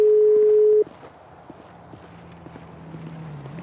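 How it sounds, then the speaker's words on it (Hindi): A phone in a roleplay video game gives a short steady dialing tone, loud and alone for under a second, then cuts to faint game ambience with soft footsteps. "रॉबर्ट सर को फोन मिलाते हैं"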